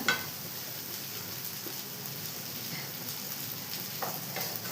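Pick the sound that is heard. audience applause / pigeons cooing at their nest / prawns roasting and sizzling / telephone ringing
prawns roasting and sizzling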